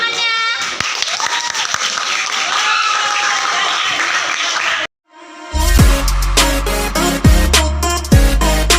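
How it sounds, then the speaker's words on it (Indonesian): Audience applause fills the first half under overlapping voices and cheering, dense and steady for about five seconds, then cuts to loud music with heavy bass. "Oke. Tepuk tangannya."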